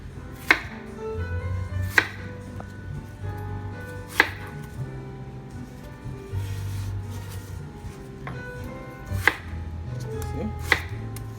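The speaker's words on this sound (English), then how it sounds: "Cutting my onion." A knife chops an onion on a cutting board in a home kitchen, with sharp, spaced strikes every second or two over a low background hum.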